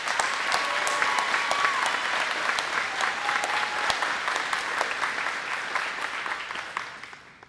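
A graduation audience applauds JROTC Army seniors, a broad sustained roar of many hands clapping filling the hall, holding steady before fading out at the end.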